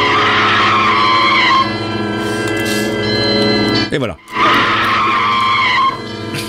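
A sustained, high, squealing whine imitates a car's handbrake skid and tire squeal in a 1972 film, most likely voiced by a person. It plays loudly, breaks off briefly partway through, then resumes, and a short spoken phrase comes at the end.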